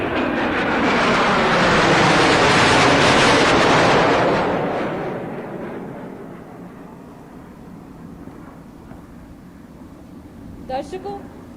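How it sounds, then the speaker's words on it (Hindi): A MiG fighter jet roars over during a Goa Liberation Day air display, its broad rumble swelling over the first four seconds and then fading into the distance, with crowd and announcer sound beneath. "जैसे ही मिग की गड़गड़ाहट फीकी पड़ती है"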